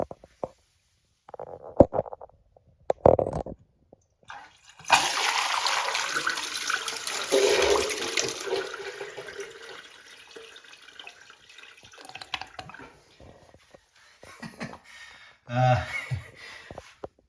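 A toilet with an open-rim bowl and a very high wall tank flushes with a long, loud gush of rushing water that swirls and gurgles down over several seconds, preceded and followed by brief handling noises.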